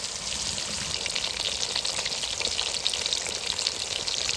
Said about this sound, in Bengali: পেটিগুলো একটু বেশ কড়া কড়া করে ভেজে দিও তো।